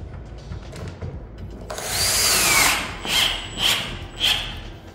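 Power drill driving screws into a CNC router part, a sustained loud whirring run followed by three short separate bursts, close up with no talking.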